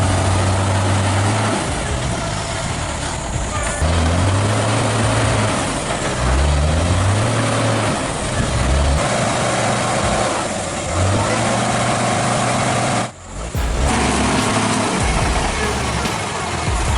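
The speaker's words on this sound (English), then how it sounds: "a giant Hino truck known as the king of the highway, was struggling endlessly on a muddy slope." A giant Hino truck strains on a muddy slope after heavy rain, its heavy diesel engine revving up and falling back in repeated low surges, loud and close, with a brief dip in sound near the end.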